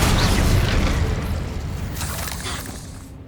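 The Incendio fire spell in Hogwarts Legacy erupts in a loud, rumbling blast of fire that roars at first and then slowly fades over a few seconds.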